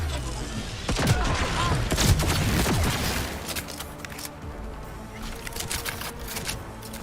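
Bursts of gunfire in the video game Cyberpunk 2077, rapid cracking shots clustered in the first few seconds and then trailing off into scattered quieter pops with background game noise.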